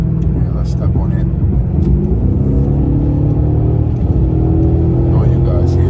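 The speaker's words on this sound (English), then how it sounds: "you guys hear that engine?" Car engine running while driving, a steady low rumble with a slight rise in pitch partway through, close and loud, with people talking over it.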